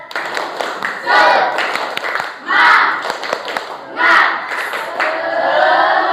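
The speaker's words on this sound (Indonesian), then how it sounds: "Tepuk semangat." A school class does a rhythmic spirit clap, with bursts of clapping and shouted cheers rising and falling loudly in a classroom, and voices mixed in.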